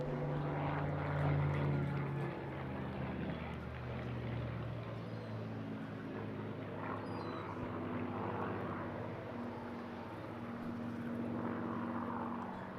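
A restored Supermarine propeller aircraft flies at the Eastbourne International Airshow, a steady distant engine drone lingering across the whole stretch with a slightly rising and falling pitch.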